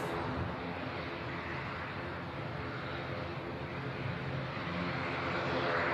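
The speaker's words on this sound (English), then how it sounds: "See the ATR that's bound for Belfast as the Indigo gets itself lined up now." An ATR turboprop airliner bound for Belfast at Manchester Airport gives off a steady, distant engine drone that holds evenly throughout, swelling slightly toward the end.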